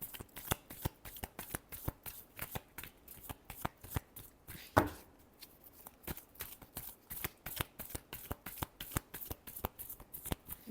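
Tarot cards are shuffled by hand in a steady run of crisp, quick riffles and slaps, close and fairly quiet, with a single louder snap near the middle and no talk.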